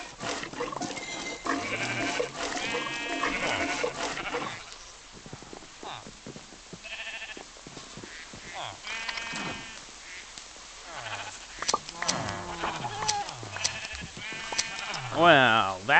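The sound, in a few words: sheep bleating in Minecraft video game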